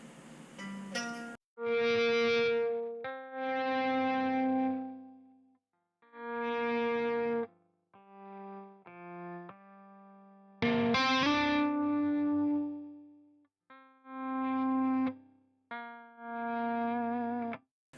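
Electric guitar notes played through an AX8 that fade in gradually from silence and swell to full volume, one after another with brief gaps, thick with effects.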